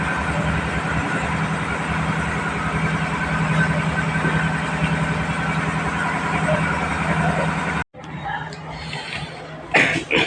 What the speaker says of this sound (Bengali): রাস্তায় গাড়ি গাড়ি যাচ্ছে ওইসব আওয়াজ হচ্ছে আর জেনারেটার চলছে তো আরও আওয়াজটা বেশি আসছে